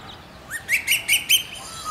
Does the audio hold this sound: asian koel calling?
yes